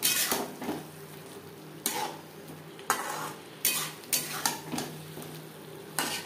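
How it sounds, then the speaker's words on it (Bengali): Potatoes being stirred into spice masala in a pan over high-to-medium flame, with repeated loud utensil scrapes and clanks against the pan over a constant sizzle, close up, no talking. "মশলার সাথে আলু বেশ ভালো করে মিক্সড করে দেবো।"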